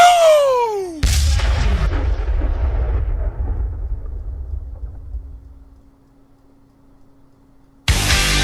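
A booming cannon blast opens after a descending whistle, its heavy rumble and crackle decaying slowly over several seconds before a second loud burst cuts in, serving as a podcast intro effect.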